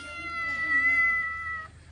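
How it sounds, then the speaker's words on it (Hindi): A small kitten that comes by for milk gives one drawn-out, high meow, close and fairly loud, with no one talking over it. "छोटी सी बिल्ली है, छोटा सा उसका बच्चा है। ये भी इस टाइम आ जाता है दूध पीने।"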